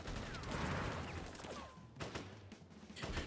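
Firing squad gunfire in Crisis Core Final Fantasy VII Reunion, a faint burst of overlapping shots followed by a few scattered cracks over battle ambience.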